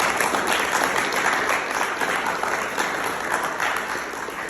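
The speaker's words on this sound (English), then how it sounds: "let's bring him up, guys, with a hand clap" Audience at a recovery meeting claps to welcome a speaker, a dense, steady burst of applause close by that holds loud throughout.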